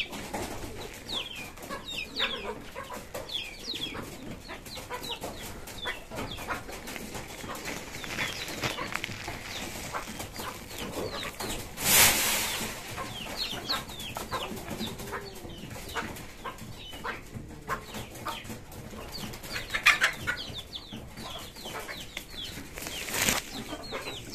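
Busy farmyard birds: scattered clucks and short calls from chickens, ducks and pigeons throughout, with occasional louder bursts like wing flaps, no talking.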